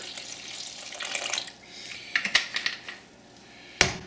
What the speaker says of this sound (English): we'll add 310 grams of room temperature water